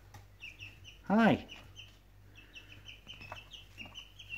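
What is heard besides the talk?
chicks clucking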